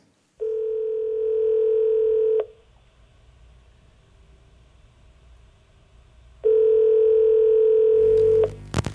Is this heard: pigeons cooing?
no